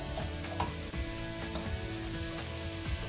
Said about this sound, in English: Now I'm going to add half teaspoon of turmeric and some boiled potatoes.